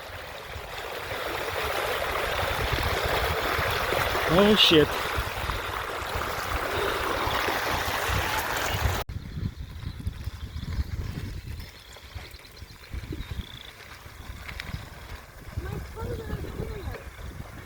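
Water rushing across a flooded trail like a small river, a loud steady wash for several seconds before it cuts to quieter outdoor sounds, with people talking and a brief exclamation.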